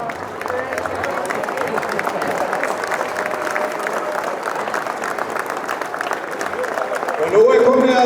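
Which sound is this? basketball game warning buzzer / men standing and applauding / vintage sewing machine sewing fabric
men standing and applauding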